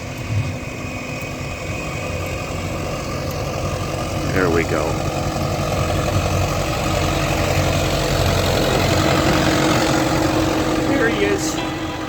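Ford 7.3 diesel truck engine idling while it warms up, a steady low rumble continuing throughout, heard from nearby outdoors with brief talk over it.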